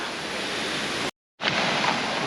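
Anayadikuthu waterfall at Thodupuzha, Kerala, pouring down in heavy flow as a dense, steady roar, briefly cut to silence before it resumes just as loud.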